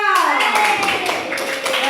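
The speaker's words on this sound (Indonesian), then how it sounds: "Tepuk tangan dulu untuk kelompok 2." A primary school classroom breaks into brief, lively clapping for a student group after a presentation, with children's voices chattering over the applause.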